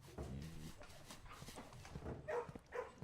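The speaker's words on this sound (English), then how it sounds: "You are going to hear dogs barking whenever I dig in a room from this point on." Dogs barking in the video game Blue Prince, set off by digging; faint, scattered barks in a quiet game soundscape with no one talking.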